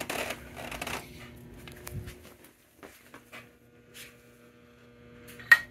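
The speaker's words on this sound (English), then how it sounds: "That's the sound of bad electrolytic capacitors, that buzzing noise." A faint, steady electrical buzz from failing electrolytic capacitors in an early-1960s Magnavox stereo console with a TV, with a few soft clicks and rustles around it before it cuts off abruptly.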